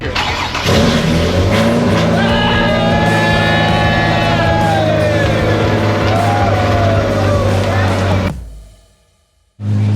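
An engine-swapped drift car at a pit-area event starts up and runs loud and close with a rough, throbbing idle and a few blips, then cuts off and goes quiet before another burst, with voices faintly mixed in.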